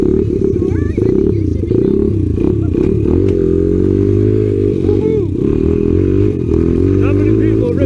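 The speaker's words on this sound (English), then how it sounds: "Seriously, first kick, she fires up in 20-degree weather." Honda XR 100 dirt bike engine running in snowy 20-degree weather, a loud, steady close-up chug with slight revving throughout, with people talking over it.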